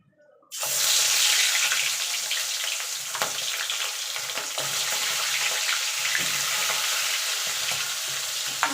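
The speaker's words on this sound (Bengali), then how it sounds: "এবার মাছের মাথাটাকে ভেজে নেবো" Fish heads dropped into hot oil in a wok for a moong dal dish burst into a loud, close sizzle after a brief quiet start, then keep up a steady crackling fry with occasional spatula scrapes.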